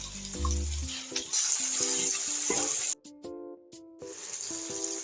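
Ground spices and curd being stirred and cooked down in a hot pan for a taro and paneer curry, a steady close sizzle and frying hiss with scraping stirs, briefly quieter for a moment midway.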